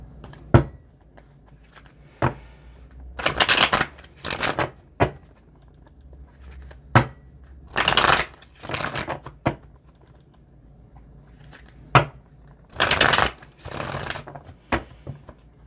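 Tarot cards from a deck being shuffled in several distinct bursts of riffling and flicking, close and fairly loud, separated by quiet pauses with occasional single card taps.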